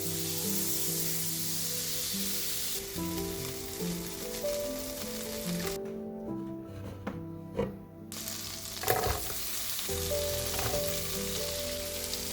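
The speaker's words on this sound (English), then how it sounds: "The butter is sizzling and bubbling like it's spilling kitchen secrets." Butter sizzles and bubbles steadily in a pan as a vegetable sauce is started, with a continuous close crackling hiss, a brief drop in the middle, and no talking.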